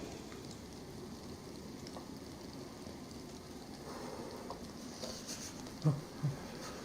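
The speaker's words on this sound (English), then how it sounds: "the rain sounds like it's stopping" Steady rain falling in the DayZ video game, a continuous soft patter at moderate level with a couple of faint thuds near the end.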